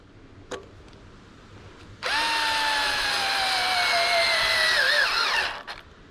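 A cordless power drill spins a 1.25 inch spade bit through wood, a loud sustained whine lasting about three and a half seconds with a pitch that sags under load, preceded and followed by faint clicks and quiet room tone.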